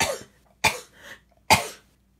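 Two sharp coughs followed by a third, with a softer throat noise in between, close up and alone without talk.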